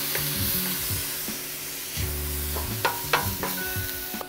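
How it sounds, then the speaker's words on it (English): White wine hisses and bubbles on hitting a hot pan of mushroom risotto, a continuous close sizzle with scattered spatters and light stirring scrapes, no voices. "Now I'm gonna hit this with a little bit of white wine. Allow that white wine to evaporate completely."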